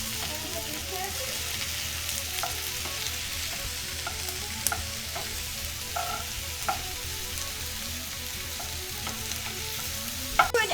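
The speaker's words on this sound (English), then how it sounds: "Now we're going to saute your onions to get a translucent color. And our carrots, because they take the longest to cook" Onions and carrots sauté in a pan with a continuous bright sizzle, broken by occasional clicks and scrapes of a spoon stirring the vegetables, close and steady with no talking.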